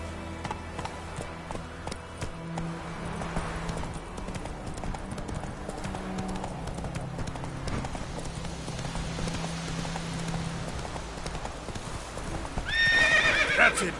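Roach, a horse in The Witcher 3, gallops with rapid rhythmic hoofbeat clip-clops and ends with a loud, close whinny near the end, accompanied by faint game ambience.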